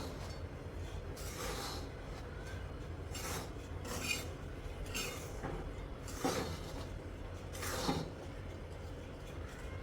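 Semolina laddu mixture is stirred in a metal pot, producing continuous scraping and rubbing with periodic louder metallic scrapes roughly every second or two. The sound stays steady and close.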